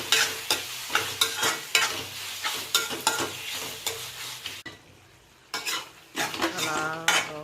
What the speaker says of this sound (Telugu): ఇందులో వేసి మంచిగా ఫ్రై చేయాలి. అంతా మీడియం ఫ్లేమ్ ఆర్ లో ఫ్లేమ్లోనే చేయాలి.